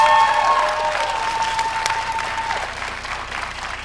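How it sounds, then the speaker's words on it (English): Sustained applause from a crowd at a law school ceremony, loud and steady, with no speech over it. "Let's give them all a great round of applause"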